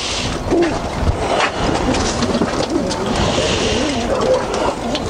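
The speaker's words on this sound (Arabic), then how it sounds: "الحمام يطلع ويروح ويجي على المكان" Pigeons coo repeatedly inside a pigeon loft, soft throaty calls rising and falling close by over a steady background of rustling and faint ambient noise.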